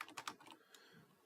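Keys tapped on a computer keyboard during Python programming work, a short flurry of quiet clicks in the first half-second, then one more faint keystroke, alone and soft.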